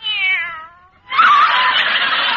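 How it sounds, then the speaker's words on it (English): A kitten in an old-time radio drama gives one clear, drawn-out meow, then after a brief pause a louder, harsher yowl that fills the rest of the moment, close and prominent. "you cute little kitten"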